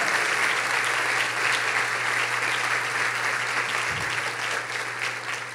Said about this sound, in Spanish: Oh, denle un mejor aplauso a Dios esta mañana.